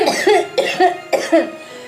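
Three close bursts of harsh, hacking coughs, each a double spasm, loud and near, with short pauses between them.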